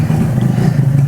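A motorcycle engine on a rainy day drones steadily and close during a wheelie. It stutters slightly as fuel delivery falters, and there is no speech over it.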